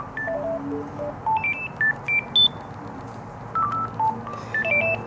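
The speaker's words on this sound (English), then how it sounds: "Gigaset's own ringtone." A Gigaset A400 or A510 cordless phone plays its own ringtone: a bright, electronic melody of short, evenly spaced tones in small bursts, clear and close against a quiet background.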